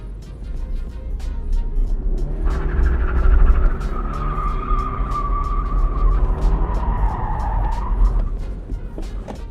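A car with a welded differential drifts on snow, its engine revving hard and its tires skidding and squealing steadily for several seconds, loud and close.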